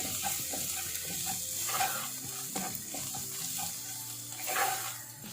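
Kashmiri red chili powder being stirred into chole masala frying in a pan: a steady close sizzle with repeated scraping strokes of the spoon throughout, and no voices.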